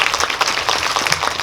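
Cinema audience at a Kingmaker film talk applauding, a sustained ripple of many clapping hands at moderate volume, fairly even in rhythm with no speech on top.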